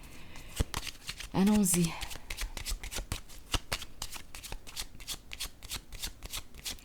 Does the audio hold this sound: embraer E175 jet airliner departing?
no